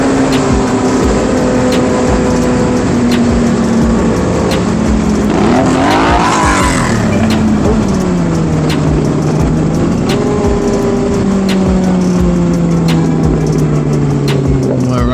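A Kawasaki Ninja ZX6R motorcycle rides at full throttle, its engine screaming steadily and loudly throughout, with the pitch rising and falling through gear changes, heavy wind roar underneath.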